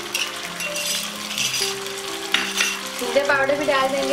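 Melon seed paste sizzles and fries in hot oil while a spoon stirs and clinks against the pan for a Kashmiri dum aloo curry, a steady close sizzle under a voice speaking Hindi.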